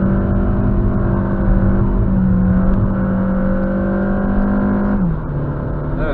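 A Seat Toledo Style 1.4 TSI with a DSG gearbox drives along a road, its steady engine hum and tyre roar holding even before the pitch drops near the end as a gear shifts, loud and close with no talk.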